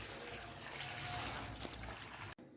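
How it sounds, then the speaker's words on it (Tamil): Water poured into a pot of cluster beans seasoned with salt and turmeric, a steady close trickle and splash lasting a couple of seconds before cutting off abruptly. "இப்போது இதில் தண்ணி ஊற்றிக்கலாம்."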